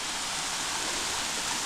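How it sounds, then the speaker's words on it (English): Waterfall just off a cycling trail near mile marker 87 of the Great Allegheny Passage, heard up close as a loud, steady broadband roar of falling water with no pauses. "So here's another waterfall just a little bit off the trail."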